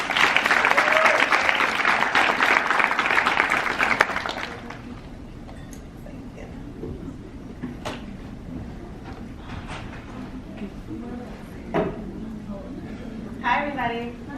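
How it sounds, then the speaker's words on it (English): A crowd applauds to welcome a speaker at a women's event, with loud, dense clapping for about four seconds before it drops away to a quiet room with scattered sounds and a few voices. "We're going to give a warm welcome and applause for Miss Elise"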